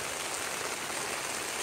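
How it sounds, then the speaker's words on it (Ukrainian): Dense, steady hiss of heavy rain pouring down in the Carpathian mountains, loud and unbroken throughout. "Зараз буде дощ."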